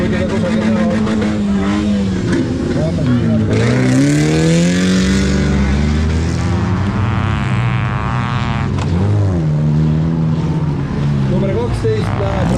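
Rallycross race cars revving and accelerating hard during a final, a loud continuous engine roar with rising and falling pitch as cars sweep past, while a commentator talks over it throughout.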